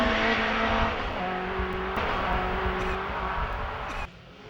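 A Ford Escort race car at a speed hillclimb in 2006 accelerates hard up through the gears, its engine loud and close with rising revs and a brief gearchange dip near the end.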